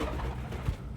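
Pet pigeons or doves cooing close by, a continuous low, throaty burble running through the whole moment, with no speech.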